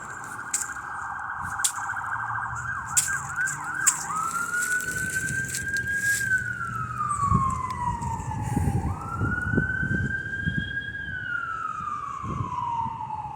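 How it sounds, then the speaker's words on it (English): An ambulance siren wails and yelps outdoors, first in rapid cycles and then in long rising and falling sweeps, fairly near and continuous over faint rumbling traffic. "that is an ambulance."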